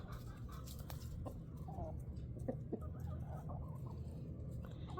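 Soft, scattered clucking from chickens over a steady low rumble of background noise, with a few brief sharper calls here and there.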